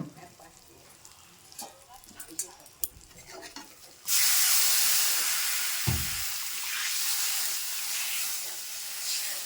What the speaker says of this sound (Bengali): আমার মশলাটা ভালো করে ভাজা হয়ে গেছে তো এবার আমি জলটাও দিয়ে দেবো